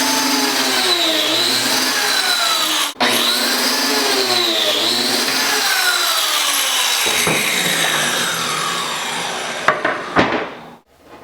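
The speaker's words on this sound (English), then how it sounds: "I want to cut these biscuit joints with the labeled face" A biscuit joiner cuts slots into the edges of wooden drawer fronts with a loud, close, continuous high whine, its pitch sagging and recovering as the blade bites, before winding down near the end.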